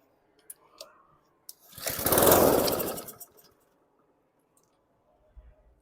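A junk lawn mower engine turns over with a short sputtering roar for about a second, then stalls and falls quiet, with a few small clicks around it.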